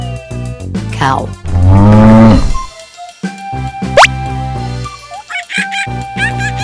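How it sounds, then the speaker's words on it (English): A cartoon cow gives a deep, loud drawn-out moo lasting about a second, set within bouncy children's toy-train music with plops and a quick rising whistle. "Cow."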